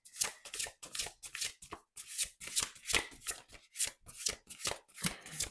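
Close, quiet riffling of a deck of cards being shuffled repeatedly, a rapid series of papery flutters and soft taps in steady bursts.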